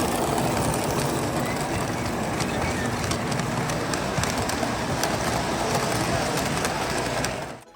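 Vintage and modern Lionel F-unit freight and passenger trains run on an O-gauge layout at a model train show, giving a steady rolling rumble with faint clicks, close and continuous until it cuts off.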